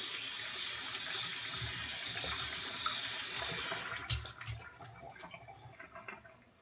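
Tap water runs steadily into a sink while a badger shaving brush is rinsed under it. The flow is soft and continuous, then breaks into splashes and drips as the brush is moved and the water tapers off.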